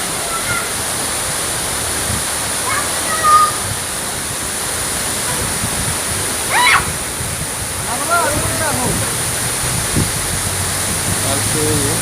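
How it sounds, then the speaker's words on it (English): Rimbi waterfall in Sikkim rushes as a steady broadband roar heard up close, with faint voices and a few brief higher sounds over the constant water noise. "Friends, we have come close to the waterfall."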